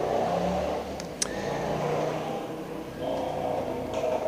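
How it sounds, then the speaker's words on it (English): Motorbikes hum and whir steadily in the background, with a faint engine rising and falling as they pass at a distance, no voice over them. "you can hear motorbikes in the background"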